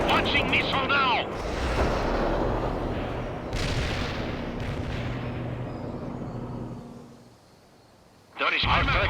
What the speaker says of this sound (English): Launching missile now!